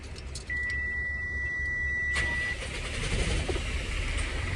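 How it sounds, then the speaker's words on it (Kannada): A truck engine starts with a short whirring crank and catches, then settles into a loud, rumbling idle nearby, after a brief steady electronic tone at the beginning. "ಇವಾಗ ಗಾಡಿ ಸ್ಟಾರ್ಟ್ ಮಾಡಿ"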